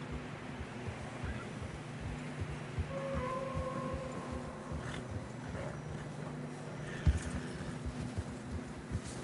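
Horse hooves clip-clop in Red Dead Redemption 2 on a narrow snowy trail, a steady soft rhythmic clopping under wind and ambient noise, with a brief faint tone in between.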